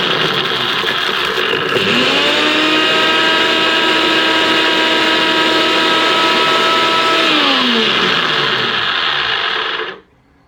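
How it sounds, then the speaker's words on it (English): An electric grinder pulverizes cinnamon sticks into powder, a loud close motor whine that rises in pitch as it spins up, holds steady for several seconds, then winds down and stops. "And then I'm just going to grind this up."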